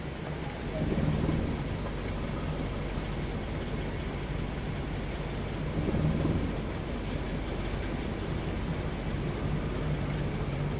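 A Great Western diesel locomotive in Train Sim World 2 pulls away with a coupled train, its engine a steady low rumble and drone that swells slightly at intervals, with no talk.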